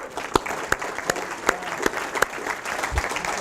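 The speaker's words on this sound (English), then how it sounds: "you deserve a round of applause" Sparse applause from a small audience at a talk, with a few sharp individual claps standing out over a soft patter of hands, lasting a few seconds.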